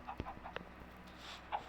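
Chickens in a Minecraft chicken farm give a few short, soft clucks and pecking ticks close by in a quiet game scene, with no talk.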